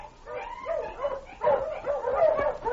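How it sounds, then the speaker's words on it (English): Husky sled dog in an old radio drama set on a wilderness trail near Dawson in the Yukon, giving several yipping, whimpering barks in close, uneven bursts. "and suddenly I heard a dog"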